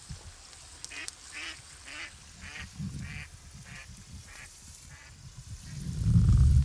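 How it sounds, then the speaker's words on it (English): A duck quacks in a steady run of about eight nasal calls at a campfire cooking spot outdoors, moderately near over low background noise, before a louder rumbling crackle swells at the end. "Do you know what that duck was saying?"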